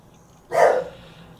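A single loud bark from Millie, a slightly overweight pet dog, sharp at onset and trailing off over a fraction of a second, against a quiet room.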